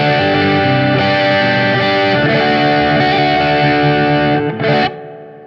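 An electric guitar played through an effects unit with the reverb turned all the way up, sustained distorted chords ringing in a thick wash of echo, loud and continuous before cutting off into a lingering reverb tail.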